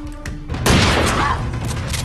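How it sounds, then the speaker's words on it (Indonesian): A grenade explodes in an action film: a sudden loud, broadband blast that swells and rumbles for over a second before settling into a lingering, noisy roar. "Lisa segera melemparkan granat dan meledak."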